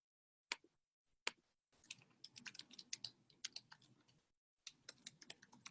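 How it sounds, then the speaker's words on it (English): Someone types an email address on a computer keyboard: close, quiet clicking keystrokes in irregular bursts, with a few isolated taps, then a pause before the typing resumes. "I'm typing in my email address again."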